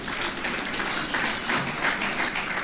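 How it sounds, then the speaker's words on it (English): Steady audience applause fills the hall at a conference opening plenary ceremony, dense continuous clapping from many hands at a moderate level, with no talk over it. "Please, another round of applause for her."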